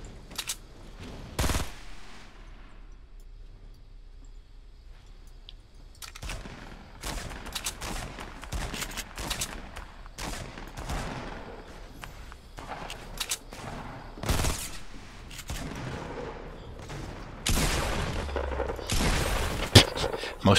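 Gunfire in Fortnite battle royale squads: repeated sharp shots and bursts, some rapid, spread across a busy in-game soundscape with brief loud cracks near the end.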